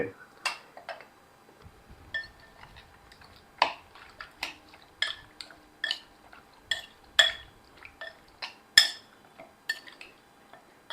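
Chicken is mixed with yogurt, salt and spices for Erode-style biryani, giving sharp intermittent clinks and scrapes of a spoon against a bowl, close and irregular, with quiet background between strikes.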